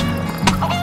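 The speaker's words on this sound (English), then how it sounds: "Where's the damn chicken at?" A chicken clucks in the video game DayZ, with a short burst of clucking rising midway over a steady low game hum.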